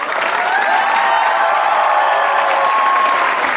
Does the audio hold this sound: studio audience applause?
yes